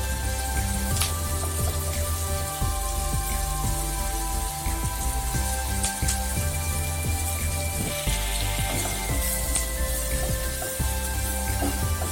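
Vegetables sizzling and crackling in a frying pan for cheese pasta, a steady close spitting hiss dotted with small pops throughout, with no talking.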